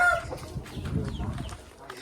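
Chickens cluck in quick, irregular bursts on a cattle farm, fairly close and lively, with a short higher call near the start.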